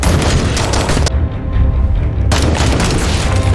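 Movie gunfire as a man opens fire on disoriented criminals in a dark room, a loud, dense barrage of shots and booms that briefly drops away before resuming just as heavily.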